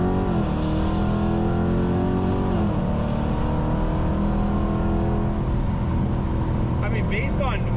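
A ProCharged 5.7 Hemi car accelerating hard, a loud sustained engine roar rising in pitch through gear changes from inside the cabin, with people talking over it.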